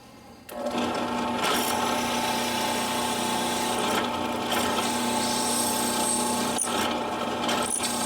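A power drill bores through the steel tang of a fixed-blade knife for mounting handle scales, a steady close whine lasting several seconds with a few brief clicks and changes in load.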